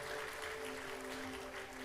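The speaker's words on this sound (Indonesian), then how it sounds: "berikan tepuk tangan buat Parakletos itu" Applause from a church congregation during a sermon, steady and broadband, fairly faint beneath a sustained tonal hum, with no break over the short stretch.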